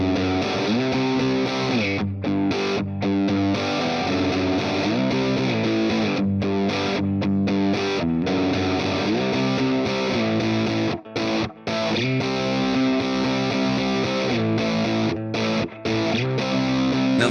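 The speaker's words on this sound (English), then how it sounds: "that's where you start to get a lot of the more signature Vox sounds, especially when we start to talk about like the broken up tones" Electric guitar played through a Vox amp's top boost channel with a broken-up, overdriven tone, sustained chords and melodic lines ringing out continuously and loudly with brief gaps between phrases.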